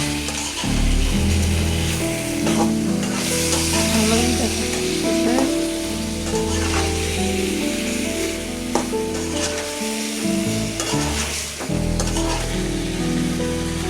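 Sweet pumpkin sizzles and fries steadily in a pan with ground prawn heads, a loud continuous crackle with occasional stirring scrapes running throughout, and no talking.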